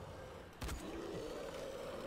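A monster in the Dying Light video game lets out a sudden low, rough growl close by that sustains briefly under the game's background noise, with no talk.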